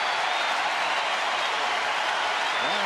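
A baseball stadium crowd stands and roars during a tense ninth inning at a Rangers home game, a constant, broad wash of cheering and noise heard from a distance with no distinct voices.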